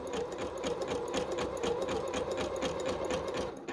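A Pfaff Passport 3.0 sewing machine that is skipping stitches runs continuously, with a fast, even mechanical chatter of the needle close up and loud from start to finish.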